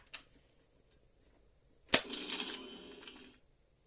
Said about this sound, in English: We've got ammunition loading sounds as well.